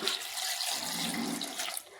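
Water is poured steadily into a cooking pot holding taro and spices for a Kerala curry, a continuous soft splashing stream heard close and alone.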